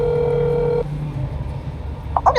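A phone rings in a video game as a steady electronic tone that holds and then cuts off, over low background hum, with a few brief sounds at the end and no speech.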